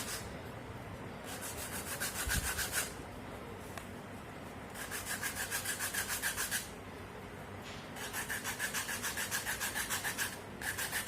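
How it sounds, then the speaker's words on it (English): A piece of sandpaper rubs back and forth over a waxed base to distress it. Bursts of steady scratchy scrubbing alternate with short pauses, close and fairly loud, and no one speaks. "I'm going to use a piece out of it and I'm going to distress my"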